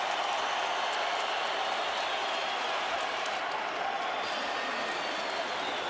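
Large boxing arena crowd at the Staples Center in Los Angeles roaring and applauding in a dense, continuous wash of cheers and clapping that stays loud and steady throughout.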